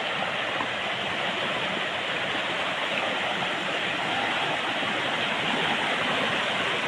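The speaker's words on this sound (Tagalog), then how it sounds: "Ito po sa sapa." Water flowing in a clean rural creek, a constant full rushing and gurgling wash that stays even and close with no voices.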